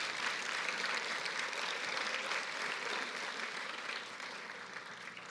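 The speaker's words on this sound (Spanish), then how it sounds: "Yo estaría dando un fuerte aplauso a Cristo por entender esa revelación poderosa." A church congregation applauds during a sermon, a sustained wash of many hands clapping in a large room that tapers off slightly toward the end, with no one speaking over it.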